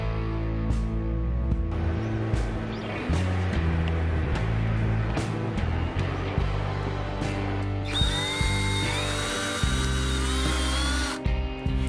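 A power tool cuts a decorative hole at the top of a homemade plumb-bob level, running loud and steady throughout with a higher-pitched, whining stretch near the end.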